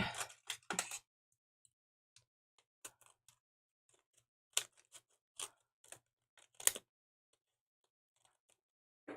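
Scissors cut through a paper print in short, quiet snips and crisp clicks, scattered irregularly with a few louder cuts amid near silence, close by.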